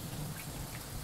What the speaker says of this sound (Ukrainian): ось така гроза з невеличким градом